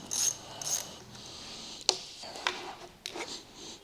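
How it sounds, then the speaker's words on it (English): Hose being pulled off a used car engine bought secondhand, giving a few short mechanical clicks, snaps and plastic scrapes at close range with quiet pauses between them and no talking. "I'm going to go ahead and take this hose off too."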